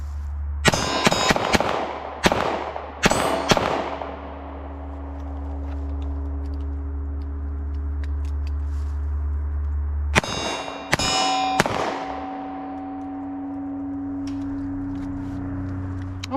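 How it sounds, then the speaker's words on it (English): Shots from a Taurus handgun striking a steel target: five sharp reports, each followed by a bright ringing clang that decays slowly, fired in two groups separated by a long pause in which the steel hums and fades. "let's make the new target ring with the Taurus"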